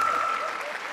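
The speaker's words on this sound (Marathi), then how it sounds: "टाळ्या जोरदार टाळ्या." Studio audience at a Marathi comedy show applauds in a short, dense burst of clapping that fades slightly within a second.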